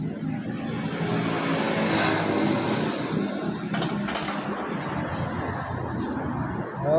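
A four-year-old Honda Click 125 v3 scooter, freshly cleaned, idles steadily up close, its engine holding an even, continuous drone throughout with no speech over it.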